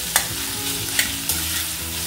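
Onions fry in a pan for a beet masala dosa filling, a steady sizzle broken by three sharp spatula scrapes as they're stirred, with nobody talking.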